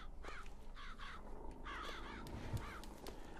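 Crows caw repeatedly in the video game Bioshock Infinite, a series of raspy calls at moderate distance, fairly quiet.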